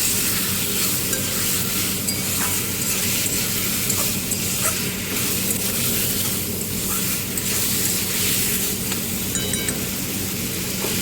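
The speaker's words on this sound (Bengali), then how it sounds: "এবার উচ্ছে কটা দিয়ে দিলাম।" Bitter gourd sizzles and fries in hot oil in a pan, a loud, continuous crackling hiss with occasional stirring scrapes throughout.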